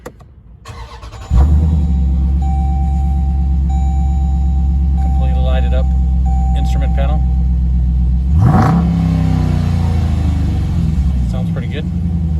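A Dodge Durango SRT with a dual-clutch transmission cranks over with a short whir, its V8 catching into a loud, steady idle that drones on with a brief blip of revs; someone talks over the running engine.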